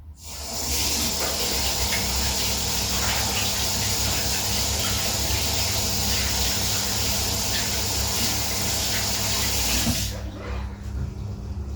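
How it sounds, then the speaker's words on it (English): Tap water runs steadily while hands are washed at a sink. The nearby, even rushing flow lasts about ten seconds before the tap shuts off abruptly. "I'm going to wash my hands now"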